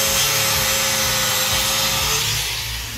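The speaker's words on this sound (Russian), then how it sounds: "начали мы пилить бампер, чтобы все влезло вместе с глушителем" Power saw cutting through the bumper of a VAZ 2111 in a garage, a loud continuous grinding rasp that holds steady for most of the clip before easing slightly at the end; no talking.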